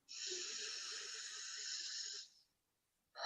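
One long, airy inhalation during a relaxation breathing exercise, a close, hissing draw of breath lasting about two seconds before fading to quiet, followed by the start of another breath.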